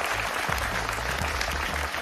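Studio audience applause on a French talk-radio show, a dense steady wash of clapping from a crowd of high-school students, loud and continuous throughout with a low hum underneath.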